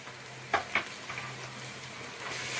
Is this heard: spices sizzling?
yes